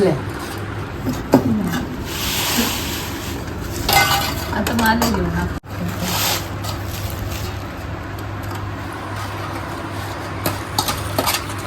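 Gunda pickle with salt being mixed in a metal pot: steady scraping, rubbing and clinking of a spoon against the pot, close and continuous, with a person talking over it.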